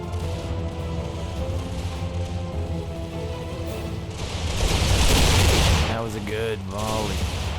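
Musket volleys in an Empire multiplayer battle: crackling gunfire over a constant battlefield din, building to a loud burst of massed shots around the middle before easing into scattered firing.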